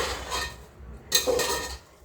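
Rice stirred into a spice mixture in a cooking pot for khichdi, with brief scraping and clinking of a utensil against the pot, fairly close and quiet.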